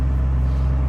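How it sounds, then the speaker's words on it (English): A Chevrolet Impala engine runs just after a cold start, with a steady, loud, close low rumble throughout and no talking. "You gonna start or you gonna die? You started."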